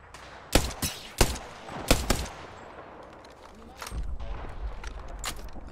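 Several sharp gunshots in the video game Apex Legends crack in quick bursts, some closely paired, followed by a quieter stretch and then a low rumbling background.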